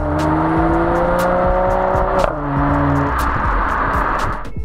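A 2019 Mercedes-AMG E53 Cabriolet drives with a steady, loud exhaust drone that climbs in pitch under acceleration, briefly dips as it shifts, then builds again, with clicking and wind noise over it.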